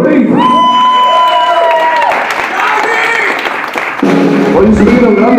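Concert crowd applauding and cheering, with whoops and shouts rising over steady clapping and a sustained musical tone in the background, loud and close throughout.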